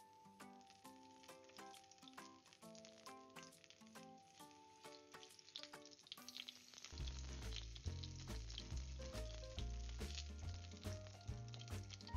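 Small eggs fry in a pan with a soft, constant sizzle under prominent background music. The sizzling grows fuller and louder partway through and keeps going steadily to the end.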